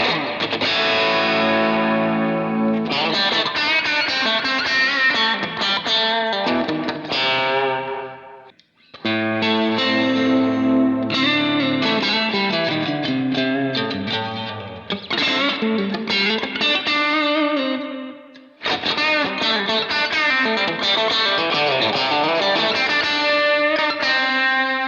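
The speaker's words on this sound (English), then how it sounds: "if I would switch to the bridge pickup now and add the delay block, that I would have a pretty decent lead sound" Electric guitar lead through a Line 6 POD GO modelling a VOX AC30 with breakup, bridge pickup and delay, playing loud sustained chords and notes in phrases with brief pauses, echoes trailing, no talking.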